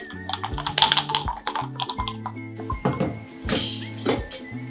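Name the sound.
shaking ice in covered mason jar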